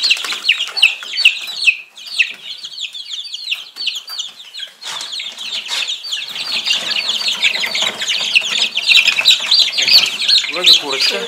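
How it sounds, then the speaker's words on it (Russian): Hens in a poultry yard cluck and squawk almost constantly, a busy, fairly close chorus of chattering calls with some wing flaps and a few quiet voices in the background. "Две курочки."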